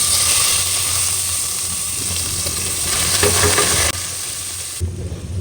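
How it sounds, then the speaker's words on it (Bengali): Chicken pieces sizzle loudly in smoking-hot mustard oil, a steady dense crackle and hiss close up with a brief burst of stirring near the end, no voices. "এই যে এরকম ধোঁয়া উঠে গেলে তখন হচ্ছে এখানে চিকেনটা দিয়ে দিব।"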